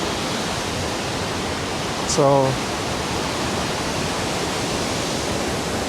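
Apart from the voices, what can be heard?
waterfall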